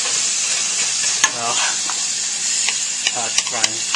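Bacon and onions sizzle steadily in a pan with a loud, constant frying hiss, occasional stirring clicks, and someone speaking briefly over it.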